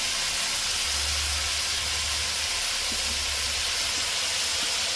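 Shrimp frying in a pan with potato and eggplant, turmeric added, giving a steady, even sizzling hiss that holds throughout with a low rumble beneath it.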